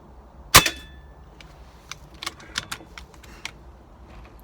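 A single sharp, loud crack of an air rifle firing Spitfire dome pellets at a bullseye target, with a brief metallic ring, followed by a few faint scattered clicks and handling noises.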